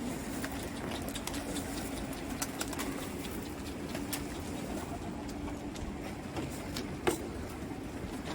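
Soft pigeon cooing with faint rustling and occasional clicks, heard at a distance over a low steady background, no talking.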